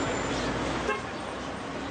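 A car reverses up to the gate of a prison under a steady wash of traffic noise, and a short horn toot sounds near the one-second mark.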